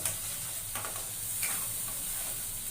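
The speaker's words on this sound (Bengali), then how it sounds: "দেবো হলুদের গুঁড়ো, দেবো লঙ্কার গুঁড়ো 1/2 চামচ, দিয়ে নেড়ে চেড়ে দেবো। মশলাটা কষাতে দেবো" Turmeric and chili powder fry in a pan with shrimp for a poppy-seed prawn dish, making a soft, steady sizzle with a few light stirring scrapes, fairly quiet and with no one speaking.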